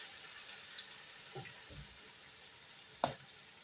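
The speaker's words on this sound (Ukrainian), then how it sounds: "Жиру багато, вони прям в фритюрі у мене смажаться." A soft, steady sizzle of potato and zucchini pancakes deep-frying in plenty of oil hisses throughout, with a few faint clinks and scrapes from a pan.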